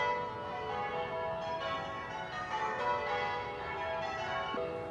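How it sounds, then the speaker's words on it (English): Bells ring continuously at a golden sunset by the sea, a dense shimmering wash of overlapping tones held at steady volume with no voices. "The bells are ringing"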